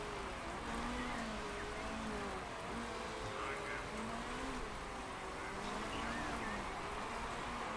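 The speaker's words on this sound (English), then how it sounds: "Okay, the rain's picking up." Steady rain falls and patters on a surface in a continuous wash, with a low engine-like drone and faint tonal sounds underneath.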